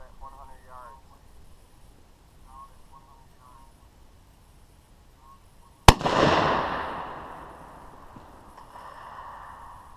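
A single sharp rifle shot cracks out across open range land toward a saw blade set at 100 yards, its report rolling off for several seconds afterward; a voice murmurs quietly before the shot.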